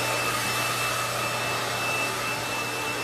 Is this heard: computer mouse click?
no